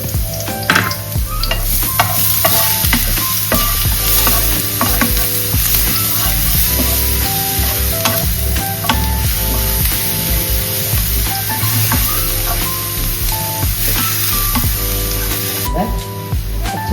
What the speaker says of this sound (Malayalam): കുറച്ച് ക്രഷ് ചെയ്ത് വെച്ചിരിക്കുന്ന ഗാർലിക്കാണ് കേട്ടോ.